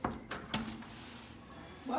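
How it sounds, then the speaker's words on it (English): A few quick knocks or a kick on a hotel room door in Los Angeles, sharp thuds in a short burst near the start, with a faint voice at the end. "So we're gonna knock on the door."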